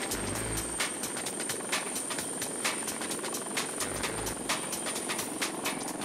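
An AgustaWestland Wildcat military helicopter flying, its steady loud rotor chop and high turbine whine continuous throughout with regular blade thumps, no talk.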